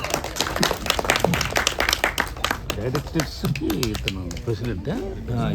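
An audience at a film trailer launch event in Hyderabad claps in scattered, uneven bursts under and between a speaking voice.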